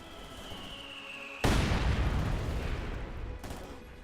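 A gun emplacement is blown up in the video game Company of Heroes 2, a sudden loud blast with a long rolling rumble, followed by a smaller second bang amid distant battle noise.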